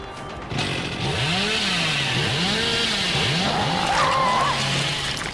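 A revving chainsaw in a horror video game, Leatherface's weapon, whines loudly and continuously with rising and falling pitch sweeps, close and dominant throughout.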